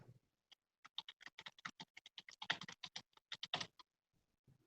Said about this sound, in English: That's Nick typing, just so you guys know.